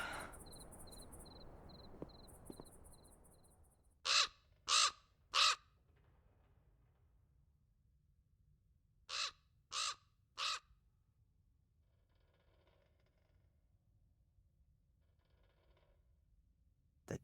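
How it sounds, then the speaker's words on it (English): Raven cawing inside a castle room in the Black Mirror 2 video game: two bursts of three loud, evenly spaced harsh caws over a faint hum, with soft chirping at the start and a quiet click. "The damn bird again."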